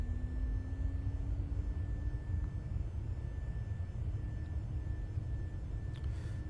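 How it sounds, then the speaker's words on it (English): Airliner taxiing out of Toronto in a flight simulator game, a steady low engine rumble and broadband whine with a faint rising tone, continuous and unbroken, with no voices. "So let's go ahead and start taxiing."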